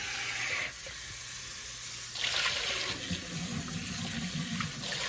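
Clean water runs from a kitchen tap into a pot of peas, a steady hissing splash that grows fuller and louder partway through as the flow strengthens, close by with no talk.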